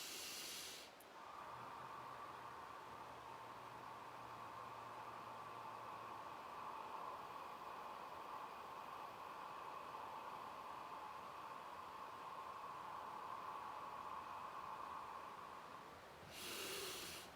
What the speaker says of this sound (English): And now I'm going to take a fog breath.